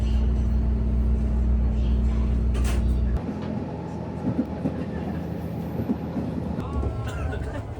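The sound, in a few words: JR Kyushu KiHa 125 series diesel railcar passing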